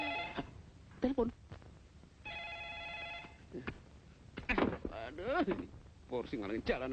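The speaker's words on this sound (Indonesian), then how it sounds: "Itu juga telepon berderang-derung" An old telephone bell rings in a short steady burst, loud and close, between stretches of people talking, with voices rising over it.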